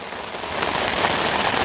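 Rain pours down around a bush hideaway, a dense, steady hiss of drops on surfaces that builds slightly, loud and enveloping with no speech.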